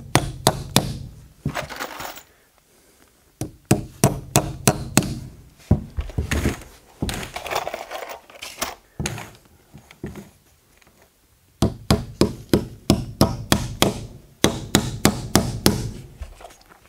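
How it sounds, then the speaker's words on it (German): Nails are hammered into wood at a house construction site, loud close blows in quick rhythmic bursts separated by short pauses. "So, und den Rest nageln wir hier rüber."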